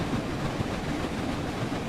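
The Flying Scotsman steam train runs in Train Sim World 4, a loud, steady rolling rumble with faint rhythmic rail clatter, close and continuous with no voices.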